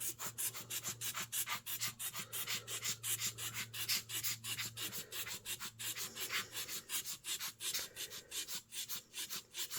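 Fingers rub white paint across a card in a fast, steady back-and-forth scrubbing rhythm, close and continuous for several seconds with no speech.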